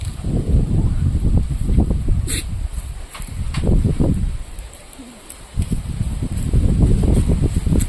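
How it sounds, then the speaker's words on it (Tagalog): Wind gusts roar across the microphone outdoors on a pig farm in uneven waves, with a faint bird call and light rustling in the background. "Wow, ang presko dito, mahangin."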